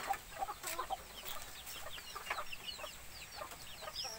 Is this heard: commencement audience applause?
no